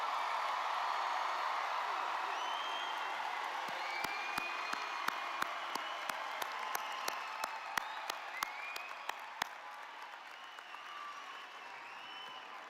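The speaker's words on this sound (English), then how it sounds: "How about one more round of applause for the class of 2026?" Commencement audience applause fills the space with a broad wash of clapping, whoops and cheering. Sharp, distinct claps ring out near the middle, and the applause gradually thins toward the end.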